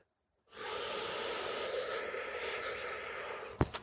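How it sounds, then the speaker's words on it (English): A single long, deep inhale of breath, close and airy, rushes in steadily for about three seconds before a short sharp catch at the end. "So breathe deep"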